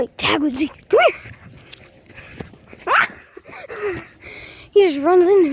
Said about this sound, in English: here it is. The cutest dog in the world.